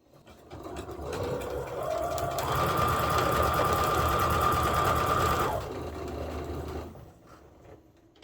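Sewing machine stitching quilt pieces, a steady whirring hum with a faint rhythmic knock that builds up, holds for several seconds, then eases off and winds down, close and alone.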